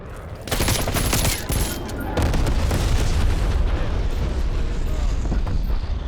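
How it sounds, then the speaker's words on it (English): Napalm strike in Call of Duty Black Ops Cold War: a loud, dense roar of fiery blasts and crackling bursts that kicks in after a brief lull and rumbles continuously, with a voice speaking briefly over it. "Enemy napalm strike incoming."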